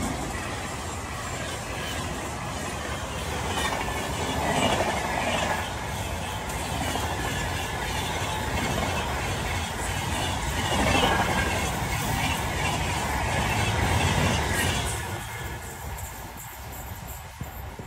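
At night the Sealdah Rajdhani express overtakes a special train on a parallel track, giving a loud, continuous rolling rumble that swells and fades twice before easing off near the end.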